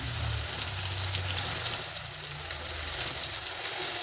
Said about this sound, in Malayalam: അപ്പോൾ നമുക്ക് ആദ്യം തന്നെ സവാള എണ്ണയിലേക്ക് ഇട്ട് കൊടുക്കാം.